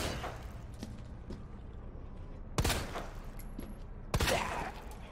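A handgun fires at a zombie in the video game Resident Evil 2 with two sharp, loud shots about a second and a half apart, over a quiet game background.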